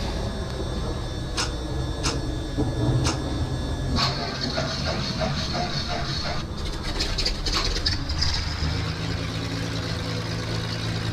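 Aircraft engines starting one after another and settling into a steady idle in Microsoft Flight Simulator X, a continuous low drone with intermittent clicks and rising whine, heard alongside the cockpit sounds.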